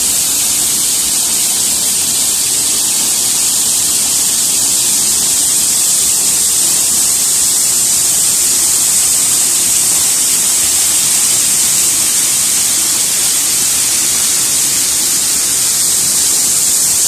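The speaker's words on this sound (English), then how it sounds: "I am underneath and behind the waterfall at" Waterfall at Silver Falls roaring from directly behind and beneath the falling water, a dense, steady hiss-like rush that stays loud and unbroken throughout with no voices.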